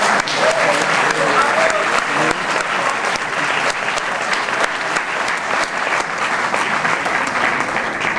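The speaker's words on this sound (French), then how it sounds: "Et vos applaudissements me donnent raison." Festival audience applauding, a dense, loud, continuous wash of many hands clapping that holds steady from start to finish.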